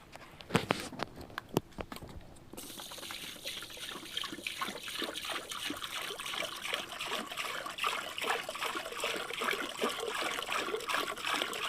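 Water is poured into a patio fountain, starting with a few splashy knocks and then settling into a steady, close trickling and splashing that continues evenly to the end.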